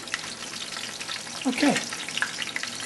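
Anchovies sizzle in hot oil in a pan for an aglio e olio with hot peppers, giving a steady close crackle with a brief louder burst midway and one short spoken word.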